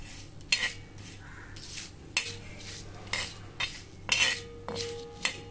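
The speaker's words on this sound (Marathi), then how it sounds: "छान बारीक गॅसवर भाजायचं, नाहीतर मग मसाले करपले तर सगळा स्वाद निघून जाईल" Whole spices roasted dry in a pan over a low flame, with a faint background sizzle and intermittent metallic clinks and scrapes of a spoon stirring against the pan, close by and without speech.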